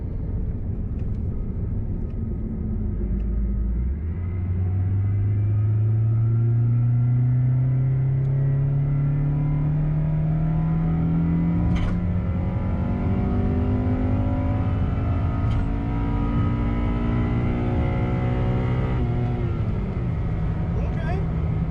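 A manual 2006 Acura TSX, stanced and Mugen-inspired, pulls away with a rising engine drone that climbs through gears and settles into a steady rumble, with people talking inside the car.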